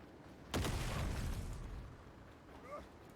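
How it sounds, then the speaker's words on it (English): A muffled explosion in an online battle game erupts suddenly, a single heavy boom that rumbles and fades over a couple of seconds, followed by faint distant chirpy sounds; no talking. "Are you hearing these explosions over here?"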